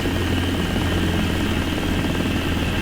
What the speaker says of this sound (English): no collective on at all now, just allowing the helicopter to auto-rotate